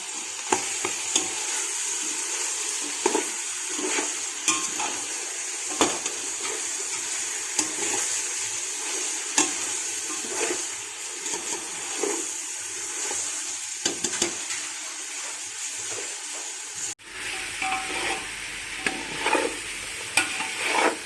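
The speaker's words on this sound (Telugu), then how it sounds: "చికెన్లో వాటర్ అంతా ఇంకిపోయే వరకు మనం దీన్ని వేయించుకోవాలి" Chicken pieces fry in a pan for chicken pulao, cooking until their water evaporates, with a constant bright sizzle broken by the scrape and clack of stirring throughout.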